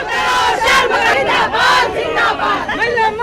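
Women activists of the BJP Mahila Morcha protest outside a liquor shop in Raipur, their crowd voices rising in loud, rhythmic chanted slogans that swell and fall in repeated waves close by.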